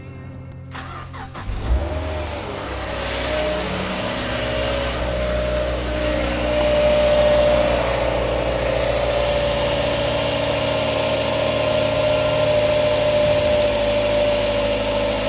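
A Mazda MX5 has its engine started and left idling during a coolant bleed after a thermostat change: a short starter crank, then a steady close idle hum with a faint whine. Someone speaks briefly at the start.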